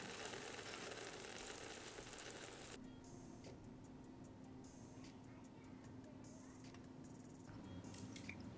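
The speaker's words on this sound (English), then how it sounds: "You can still hear that sizzling sound." Bratwurst sizzling on an electric Johnsonville Sizzling Sausage Grill: soft, steady sizzling crackle at low volume, with a short louder hiss at the start and faint ticking throughout.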